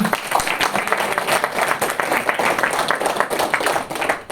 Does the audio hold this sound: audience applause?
yes